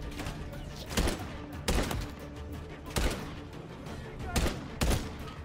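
Gunfire from the video game Call of Duty Modern Warfare 3 sounds as a series of sharp bursts, about six loud cracks spaced irregularly over a few seconds, with a dense background of game noise between shots.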